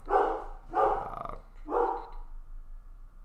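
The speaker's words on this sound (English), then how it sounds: "Sorry, my dog's going to be going crazy for a minute." A pet dog barks in three loud, close bursts, each short and forceful, with a rougher growl-like trailing edge, then tails off into quieter room noise.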